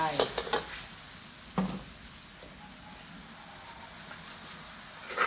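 Eggplant being stir-fried in a pan: a soft constant sizzle with a few clattering stirs and scrapes of the utensil near the start, close by and without speech.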